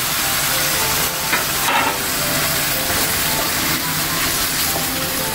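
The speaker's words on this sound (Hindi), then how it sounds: "थोड़ी देर तक इसको फ्राई करूँगी अदरक लहसुन की पेस्ट के साथ, ताकि इसकी स्मेल निकल जाए चिकन की।" Chicken fries with ginger garlic paste in a wok over a medium-low flame, giving a steady close sizzle with occasional stirring scrapes throughout.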